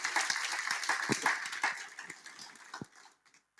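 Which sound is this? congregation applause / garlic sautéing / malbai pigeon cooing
congregation applause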